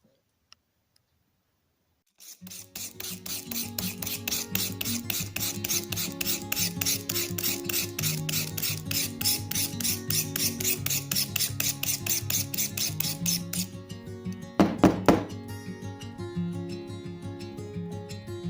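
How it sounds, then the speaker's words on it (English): A rusty hatchet's hickory handle is scraped clean with steady, rhythmic rasping strokes that run close and continuous for about eleven seconds, then stop, followed by a couple of sharp knocks. "time to get this handle scraped clean."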